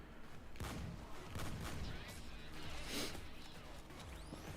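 Rapid turret gunfire in a video game crackles in loud bursts throughout, with booming impacts and a sharp swell near the end, all dense and continuous.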